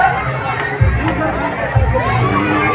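Festival crowd at a Hanuman birth celebration procession in Ramnagar, Jalna, a dense, constant murmur of many voices close by, with scattered shouts and children among the chatter.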